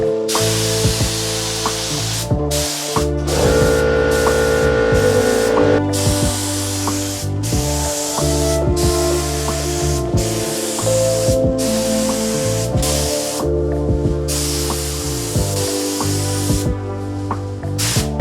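Bursts of hissing spray from a paint spray gun applying clear coat to car parts, repeated in short passes with brief gaps, against a steady background hum.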